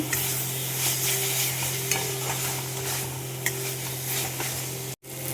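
Spice paste with jaggery, the masala for bhola fish, being sautéd in a pan, giving a steady loud sizzle with scraping stirs and a few sharp knocks of the spatula.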